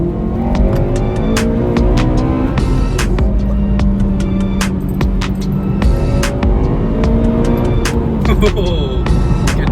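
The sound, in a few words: Honda Civic Type R FN2 engine revving into VTEC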